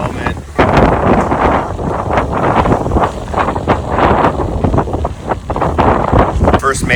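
Strong wind buffets the microphone aboard a sailboat motoring at about 11 knots of wind with no sails up, a loud continuous roar with gusty surges throughout, with some talk mixed in.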